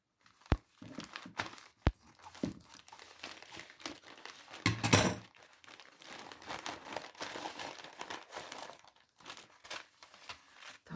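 Crinkling plastic and paper packaging from a parcel of cucumber and onion seed packets being opened, with irregular rustles, crackles and a few sharp snaps up close, louder in a burst midway, no talk.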